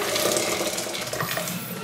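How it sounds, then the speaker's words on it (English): Boiling water poured from a kettle into a pan in a home kitchen, a steady close splashing, gurgling stream running throughout without talk. "let's just pour that boiling water in there"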